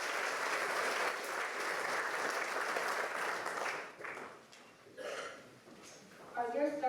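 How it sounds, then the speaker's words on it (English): An audience at a school prize night in Belfast claps in a dense burst of applause for several seconds, which dies away as a voice begins speaking over the hall. "please reserve applause until the end of these awards"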